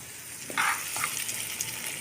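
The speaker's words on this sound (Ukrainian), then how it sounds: "Тут вода кипить." A steady hiss of bubbling, simmering water boiling in a pot, with soft pops and brief splashes over the constant bubbling, close by, in a home kitchen.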